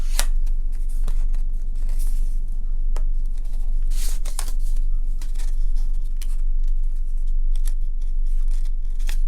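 A small paper envelope is opened with crisp rustles, a few sharp tearing crackles and soft handling noises, close and fairly loud, and no one speaks.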